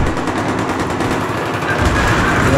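M240B machine gun firing in Battlefield 3 on the Ziba Tower map: loud, continuous automatic bursts fill the whole stretch, dense and close with no pauses and no voices over it.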